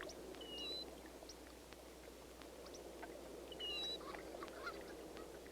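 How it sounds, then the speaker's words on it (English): Snow and blue geese honk at a nesting colony, many birds calling over a dense, steady chorus of distant honking, with sharper nearer calls rising now and then. "a mixed pair of snow and blue geese"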